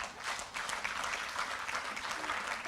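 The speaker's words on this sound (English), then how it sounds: "Can that round of applause be louder?" Applause from an audience at a human rights week event, a steady, fairly quiet wash of clapping heard at some distance.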